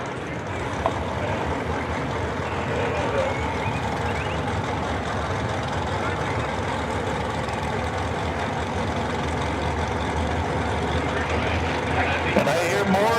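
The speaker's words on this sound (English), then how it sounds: "I think a truck might be coming." A truck approaches at a drag racing strip, its engine a steady low rumble throughout, with faint beeping and people talking over it.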